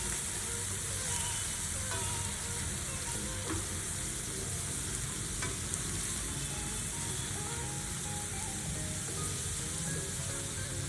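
Ginger-garlic paste frying in hot oil for Punjabi-style chole, a steady dense sizzle with faint stirring scrapes, close and continuous with no voices.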